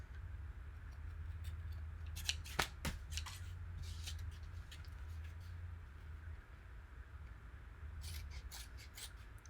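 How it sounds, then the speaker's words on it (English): Scissors trim the ribbon tails of cheerleading hair bows, a few sharp snips clustered near the start and again toward the end, close and crisp over a quiet low hum. "And I'm just trimming the tails."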